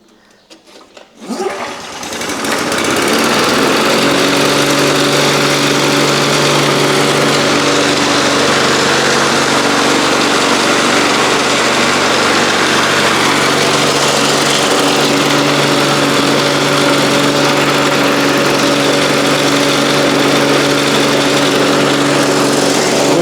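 A dormant lawn mower's small engine fires up after fuel reaches the carburetor, catching within a second and then running at a loud, steady, buzzing high idle for over twenty seconds, close by.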